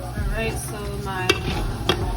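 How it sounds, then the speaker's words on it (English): Onion, garlic and tomato sautéing in a pan for vegan soul food, a close soft sizzle with stirring and two sharp utensil clicks against the pan. "onion, garlic, and tomato have been sauteing"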